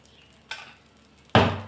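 Metal pots and an iron kadai being handled for washing in a home kitchen, a few sparse clanks and scrapes, with one louder metallic clatter near the end.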